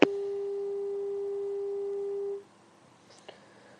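After a phone call is cut off, a telephone line gives a single steady, clear tone for over two seconds before it stops, leaving near silence with a couple of faint clicks.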